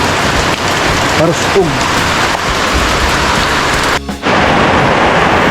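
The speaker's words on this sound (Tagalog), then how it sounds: "biglang bumagsak na naman yung ulan" Sudden heavy rain pours down in a dense, constant hiss close by, with a brief voice cutting in over the downpour.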